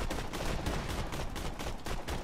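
Rapid, continuous gunfire from Borderlands 2, a dense run of closely spaced shots at steady loudness with no pauses and no talk.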